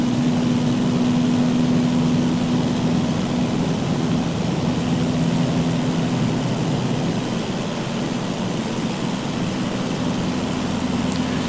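Cessna engine in Microsoft Flight Simulator 2024 at Chicago, a steady loud droning propeller roar with an even hum throughout, no talking.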